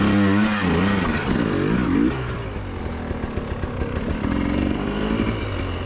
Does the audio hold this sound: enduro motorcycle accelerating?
yes